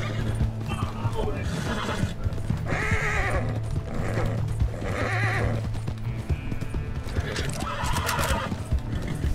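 A horse in the video game Red Dead Online whinnies repeatedly, with several loud neighs over clip-clopping hooves and a busy, dense game soundscape, while people talk.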